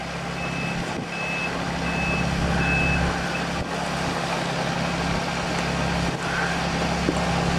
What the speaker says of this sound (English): There's barge construction going on.